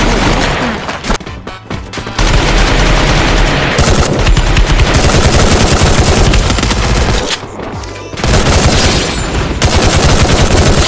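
Rapid automatic gunfire from the video game Free Fire, loud and dense bursts running nearly continuously with two brief gaps, with faint in-game sounds beneath.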